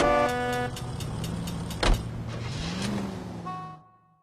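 A 1940s-style car in L.A. Noire drives through city streets, its steady engine hum shifting pitch as it moves, with a sharp horn-like toot near the middle and the sound fading out at the end.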